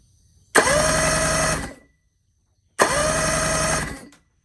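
An outboard motor with a no-spark fault cranked twice by its starter, each a steady mechanical whir of about one and a half seconds that does not catch, with a short silence between.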